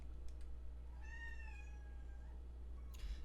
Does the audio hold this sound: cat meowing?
yes